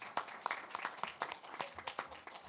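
A small audience at a governors' meeting gives a short burst of scattered, uneven clapping, brief and fairly quiet.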